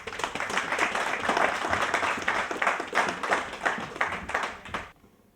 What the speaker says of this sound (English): Clap for him.